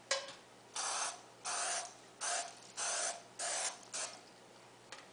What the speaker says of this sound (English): now I'm going to spray my 9x5-inch loaf pan with a little bit of cooking spray